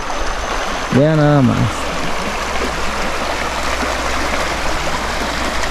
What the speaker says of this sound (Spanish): este es el río de aquí de Capula, mis amigos